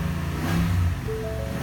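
A Ford F-250 Lariat pickup's engine fires up and rumbles with a deep, loud idle and slight rev, close and steady for under two seconds.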